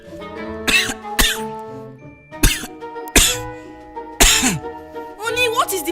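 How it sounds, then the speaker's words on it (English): Several sharp dry coughs and throat-clearing bursts come in quick, separate fits close to the microphone, with short squeaky vocal sounds between them. "It's like I've started developing dry cough."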